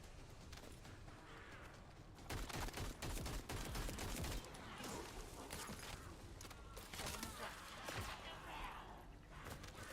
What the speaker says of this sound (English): He's just shooting at us,